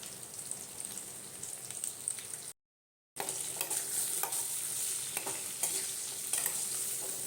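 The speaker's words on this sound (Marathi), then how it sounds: "रताळ्याच्या ज्या फोडी करून घेतल्या होत्या त्या घालून ढवळून घेऊया" Sweet potato pieces are stirred in a hot kadhai as they sizzle and scrape softly. The steady frying hiss breaks off for a moment of silence, then resumes with light spoon clinks.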